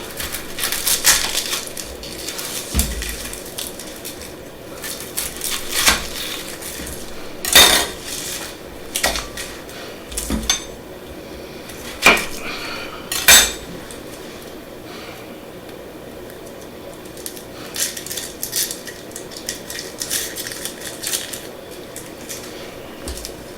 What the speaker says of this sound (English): First thing let's do is we gotta chop up an onion